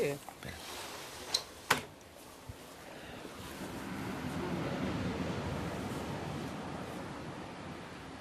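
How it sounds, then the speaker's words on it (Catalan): Steady, soft wash of sea surf rising and settling at Llafranc, with a few sharp knocks near the start before the broad murmur takes over. "La remor del mar."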